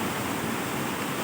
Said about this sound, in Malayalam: ഈ വെള്ളം ഇങ്ങനെയാണ് ഒഴുകി വരുന്നത്